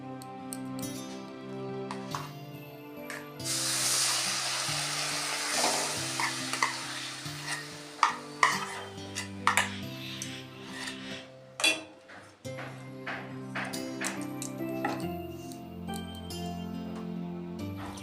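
Homemade cream melts in a hot wok to make ghee, sizzling and crackling steadily while a spoon scrapes and stirs with sharp intermittent clinks, close and fairly quiet.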